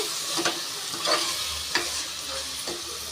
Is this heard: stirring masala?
yes